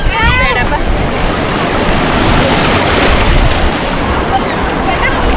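Loud, continuous roar of ocean surf breaking at Murdeshwara beach, with heavy wind buffeting the microphone and a brief voice near the start.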